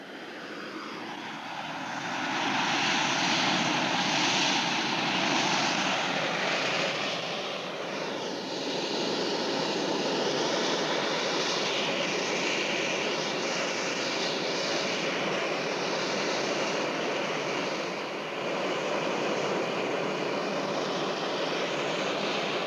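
A sci-fi spacecraft engine roars steadily and loud, a dense sustained whoosh with a slowly shifting pitch as the craft approaches and sets down, with no voices.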